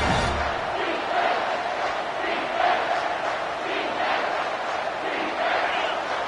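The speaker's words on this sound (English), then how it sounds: "this crowd will blow out a vocal cord to help this defense" Football stadium crowd roaring loudly and steadily for the home defense on third down, a dense, sustained wall of cheering with no pauses.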